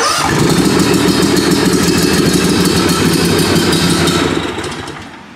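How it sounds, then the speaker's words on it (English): A gas walk-behind lawn mower engine runs steadily at part throttle after starting, a loud, close, chugging drone that holds for several seconds before easing off at the end. "Once the engine begins running,"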